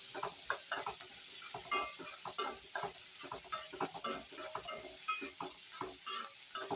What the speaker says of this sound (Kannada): ಗೋಲ್ಡನ್ ಫ್ರೈ ಆಗೋವರೆಗೂ ಸ್ವಲ್ಪ ಹೊತ್ತು ತಿರುಗಿಸ್ತಾ ಇರಬೇಕು. ಈರುಳ್ಳಿ ಗೋಲ್ಡನ್ ಫ್ರೈ ಆಗಬೇಕು.